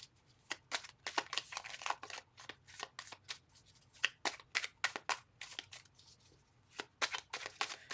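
Tarot cards are shuffled by hand in a quiet room, a rapid run of crisp riffling snaps and soft slaps in uneven bursts.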